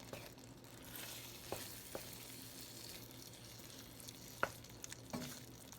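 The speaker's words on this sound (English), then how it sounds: "Let's stir this in." Beef stroganoff being stirred in a pan on the stove, a soft steady sizzle with a few faint spoon scrapes and clicks, quiet and close.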